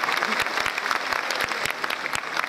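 Close, dense applause from an audience at a talk on personality and smiling, with sharp individual claps popping through a continuous crackling wash.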